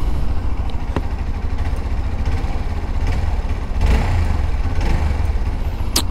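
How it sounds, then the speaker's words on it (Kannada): A Hero Xpulse 200 4V motorcycle idles close by, its exhaust giving a steady low rumble throughout with no revving and no voices. "ಸೊ ಎಕ್ಸಾಸ್ಟ್ ನೋಡಿ ಕೇಳಿಸ್ಕೊಂಬಿಡಿ ಹೇಗಿದೆ ಅಂತ"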